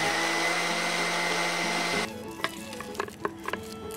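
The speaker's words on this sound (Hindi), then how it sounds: "अब बस मिक्सी में डाले, घुमा देते हैं इसको." An electric mixer grinder whirs loudly for about two seconds while grinding peanuts, fenugreek powder, salt and green chili, then cuts off, leaving scattered clinks and kitchen handling sounds.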